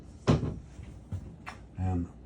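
A solid wood bathroom door in a compact custom all-electric coach swings and bumps shut, giving a couple of close, hollow wooden knocks and a short creak, with someone talking nearby.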